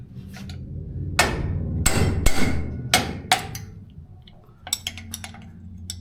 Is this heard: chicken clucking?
no